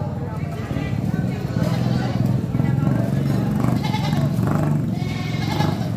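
Goats bleat at a livestock market in Santo Tomas, Batangas, their calls rising over steady crowd chatter and nearby talk, loud and close amid a busy outdoor din.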